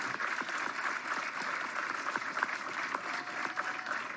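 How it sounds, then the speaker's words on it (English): Steady applause from a packed standing-room crowd at a bowling championship in Ashwaubenon, many hands clapping at once in a dense, sustained roar that keeps up for several seconds. "Len Jordan clearly has a good rooting section here in the SRO crowd at Ashwaubenon."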